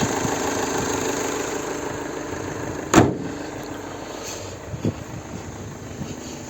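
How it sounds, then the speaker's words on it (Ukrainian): A 2013 VW Sharan 2.0 TDI diesel engine idles steadily and evenly at close range, with a sharp knock or bump partway through and a couple of small clicks later. "Двигун працює ідеально рівно, немає ніяких нюансів."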